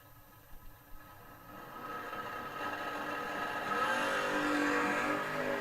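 Bracket drag racing at a strip, a '66 Nova against a little Mustang: a broad engine roar builds steadily from low to loud over several seconds and holds near its peak, with no talk.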